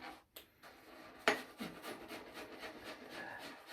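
Soap is scrubbed out of a Japanese kamisori razor, producing faint, close rubbing and scratchy brushing strokes with a few light knocks, soft and irregular.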